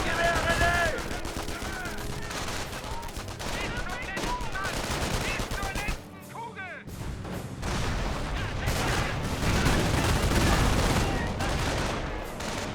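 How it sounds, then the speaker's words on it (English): Machine gun fire rattles through a busy Company of Heroes battle, dense bursts of gunfire and explosions layered with game voices and chatter, loud and continuous with a brief dip midway. "Machine gun"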